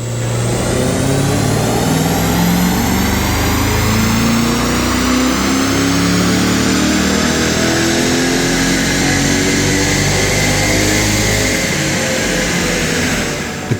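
A supercharged Corvette C8 on a rolling road dyno revs hard in a loud, continuous run, its engine note climbing steadily through the gears with rising whine and roar close to the microphone.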